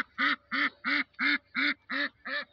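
Half-grown farm ducks out grazing in late spring, seven evenly spaced loud quacks in a regular rhythm, close by with quiet pauses between each call.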